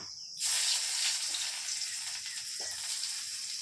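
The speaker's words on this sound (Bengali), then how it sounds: "প্রথমে কড়াইতে পেঁয়াজ কুচি দিয়ে দেবো।" Chopped onions hit hot oil in a wok and burst into a loud, steady sizzle that holds on without a break.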